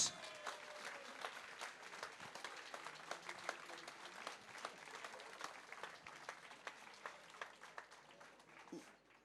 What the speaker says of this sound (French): Applaudissez Christelle Leux.